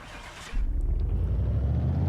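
A Tempest Magnum engine in Car Mechanic Simulator 2018 cranks and catches on the dyno, a hiss giving way to a loud, steady low engine rumble that holds to the end.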